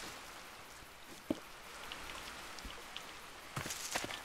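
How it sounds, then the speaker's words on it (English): Steady rainfall in a modded Minecraft world, a soft continuous patter with scattered louder drops and a brief thump, heard on its own without speech. "Oh, rain. Lovely."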